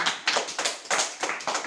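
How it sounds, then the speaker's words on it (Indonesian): Students clapping in a high school classroom, a short burst of about seven distinct, fairly close claps in an uneven rhythm. "berikan tepuk tangan tentang analisisnya"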